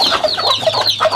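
Rhode Island Red hens brooding on nests in a farm coop, several overlapping soft clucks and chirping calls in quick succession, close and fairly loud, with no talking.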